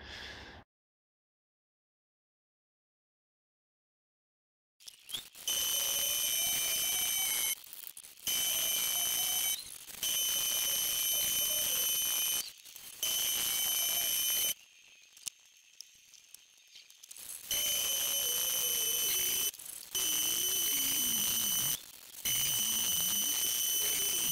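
An angle grinder works on a Land Rover Series 3 chassis. After a few seconds of silence come several loud, sustained bursts of high, whining grinding, each separated by a short pause.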